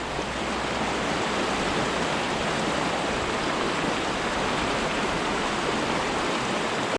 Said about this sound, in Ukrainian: Такий перекат.